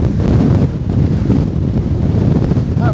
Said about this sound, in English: That wind's really picked up now